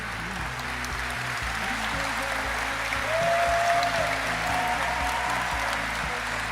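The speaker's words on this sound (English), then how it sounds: "Applause." Crowd applause fills a large arena at gamescom Opening Night Live, a dense steady clapping that swells slightly midway and continues without talk.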